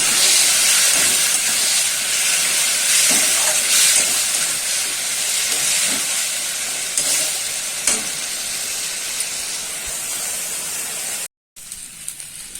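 Spice paste and potatoes fry in oil in a pan for a Bengali aloo posto dish, producing a loud, continuous hiss and sizzle with faint stirring scrapes, broken by a brief silence near the end.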